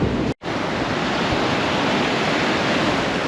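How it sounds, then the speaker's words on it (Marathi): Arabian Sea waves rolling onto Ashvem beach in Goa, a steady broadband roar of surf close by with a brief dropout early on, no voices. "आता समोर समुद्र आहे"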